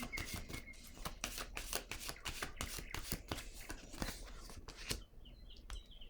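Paper cards handled on a table: a quick run of crisp, evenly spaced flicks and taps close by, ending in a lone soft slap as a card is set down, with no talking.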